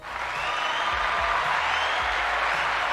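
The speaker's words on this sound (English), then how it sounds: "We can get an applause for the Bulls here" Applause sound effect, a dense steady clatter of clapping hands from a crowd, rising quickly and holding evenly throughout.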